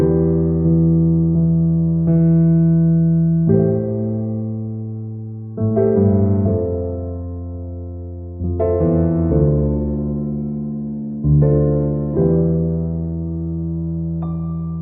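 A sustained sung vocal line processed with SoundToys SuperPlate plate reverb, long held notes with a smooth decaying tail between phrases, loud and upfront, with no talking.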